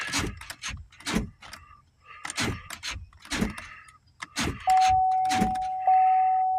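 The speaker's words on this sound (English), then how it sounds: "let's check the door locks" Mechanical clicks and clunks of car door locks actuating, mixed with short knocks, followed by a steady electronic tone near the end.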